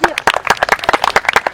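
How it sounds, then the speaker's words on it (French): Young pupils in an outdoor French class applaud a classmate. A short burst of sharp, uneven handclaps sounds close and loud. "On peut l'applaudir."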